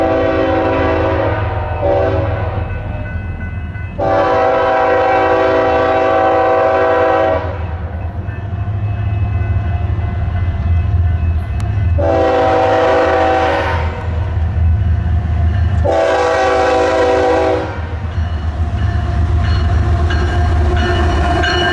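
A westbound BNSF freight train passes, rumbling steadily close by, and its loud horn sounds in several long blasts separated by pauses.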